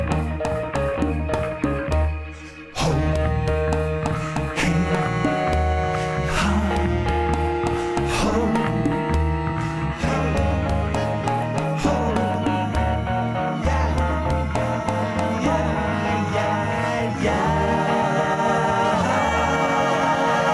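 Closing section of an Afro-beat groove remix, with steady drums, bass and layered melodic instruments playing continuously at full volume and no talking.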